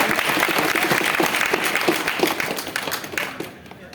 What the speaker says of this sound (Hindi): या तो ताली बजाइए या तो नहीं बजाइए